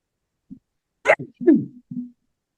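A single abrupt sneeze bursts out near the mic, surrounded by a few short vocal sounds and breaths in otherwise quiet air.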